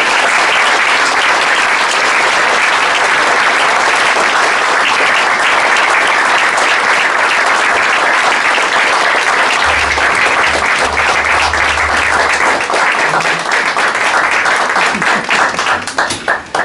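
Loud, sustained applause from a concert audience for a singer at an Aşiyan Musiki Derneği event, dense clapping filling the whole stretch before tapering off at the end.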